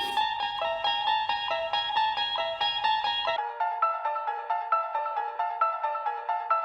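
Eerie theme music resembling the Twilight Zone theme plays as a looping, bell-like melodic pattern, first over a low pulsing backing and then alone, steady and fairly loud.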